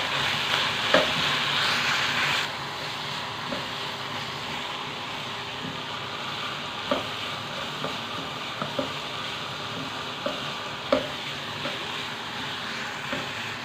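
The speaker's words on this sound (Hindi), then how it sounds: "इससे अच्छे से आप तमाम मसालों को भून लें।" Minced meat and spices with green chilies frying in a pan for samosa filling, a steady broad sizzle with scattered soft stirring knocks and scrapes.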